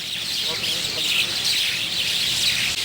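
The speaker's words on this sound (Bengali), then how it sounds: "শালিকের কিচিরমিচির শব্দে মুখরিত হয়ে ওঠে গোটা এলাকা" A large flock of mynas gathered at a bus stand in Jhenaidah fills the air with a dense, continuous wash of chirping and chatter, steady and loud throughout with no pauses.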